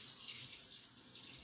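Running tap water pours steadily into a sink while a blender jar is rinsed out after making milk, a continuous close hiss with no speech.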